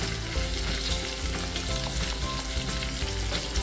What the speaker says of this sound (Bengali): পালং শাকটা একটু নেড়ে নেব